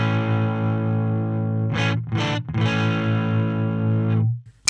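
Electric guitar through an EVH 5150 Iconic amp with the gain raised, sustained chords turning gritty and saturated, loud and close, with a brief choppy strum in the middle before the sound cuts off.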